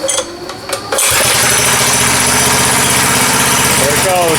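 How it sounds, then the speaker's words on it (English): A Motovox mini bike fitted with a swapped-in Briggs engine sputters to life after some cranking and then runs with a loud, close, steady putter and a faint pitch rise near the end. "There it goes. The Motovox is running."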